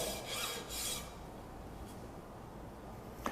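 A hand file rasps along a metal edge in two or three strong, close strokes, then gives fainter scraping, and ends with a sharp tick.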